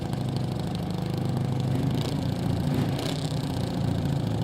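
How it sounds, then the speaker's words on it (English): Half of a 1984 Chevrolet V8 running as a four-cylinder in a Sidewinders Club G Fuel modified roadster at El Mirage dry lake. It gives a steady, close, rough mid-pitched drone with no talk over it. "I think this is half of an 8-cylinder that's half of a Chevrolet 8-cylinder that's running here. That's why it sounds a little different."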